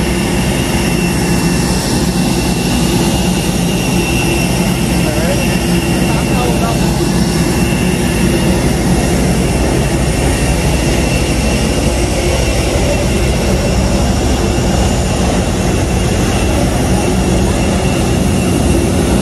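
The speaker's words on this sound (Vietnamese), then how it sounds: "Đấy, máy bay Vietjet đấy các bạn ạ." Vietjet airliner jet engines at an airport, heard from the boarding area; a loud, continuous broadband roar with a steady whine, constant for the whole stretch, with people talking faintly in the background.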